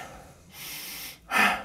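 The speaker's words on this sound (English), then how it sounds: "just start breathing in a way that's inhale emphasized" A person demonstrates inhale-emphasized breathing: a soft breath, then a longer inhale, then a sharp, loud snort-like intake of air through the nose, close to the microphone with no words.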